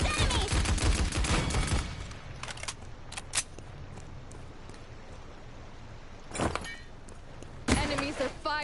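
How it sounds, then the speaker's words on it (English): Gunfire from the video game Paladins: a dense rapid burst of shots at the start, then quieter game ambience with a few scattered clicks and two more short bursts near the end, one voice speaking briefly. "Enemies are firing on me."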